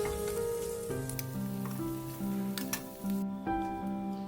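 Oil in a pan sizzles steadily as food fries, with a dense crackling hiss throughout, occasional sharper pops and a faint tonal hum underneath, with no speech.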